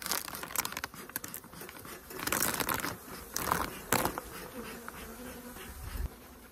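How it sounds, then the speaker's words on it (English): A dense, continuous buzz of many honey bees close by on hive frames, with scattered rustling and crinkling noises rising and falling over it. "I just want to literally remove the bees off of here"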